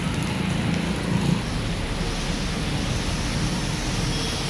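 Steady broadband rain hiss on a city street near a metro station, continuous and fairly loud throughout with a faint low rumble beneath, no talking.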